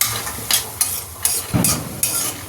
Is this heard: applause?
no